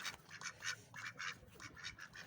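Pet ducks quacking in their coop at a home pet house, a quiet stream of soft, repeated nasal quacks overlapping at a moderate distance, with no talking.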